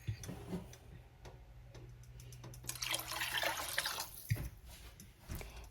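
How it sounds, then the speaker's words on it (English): Water pours into a soup pot of sopa de fideo, a faint splashing rush in the middle of an otherwise quiet kitchen with light ticking and small knocks. "Now I'm going to add 6 cups of water to the pot."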